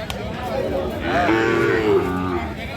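A Sahiwal heifer at a cattle farm moos once, a long drawn-out, rising and falling low call that starts about a second in and carries on for roughly a second, with faint farmyard background and people nearby.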